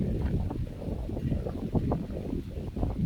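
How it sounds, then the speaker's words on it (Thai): Dry wind buffets a microphone outdoors in parched countryside where cattle are grazed, a constant low rumbling roar with gusty surges throughout and no voices. "อากาศลมแห้ง"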